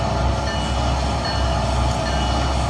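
Locomotive rolling along in a train simulator game, a steady, dense rumble of rail and engine noise at constant loudness, with no voices over it.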